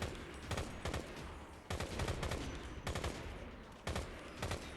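Left to Survive gameplay brings repeated bursts of game gunfire, clusters of rapid shots fired in roughly second-long bursts with brief pauses between, steady and moderately loud with no talking over them.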